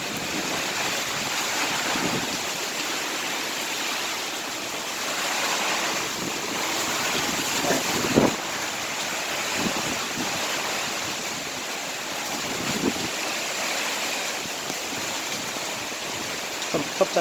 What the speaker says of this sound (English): the water is running down the street.